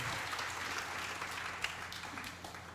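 A church congregation applauds together, a steady wash of clapping that holds at an even level for a few seconds with no talking over it.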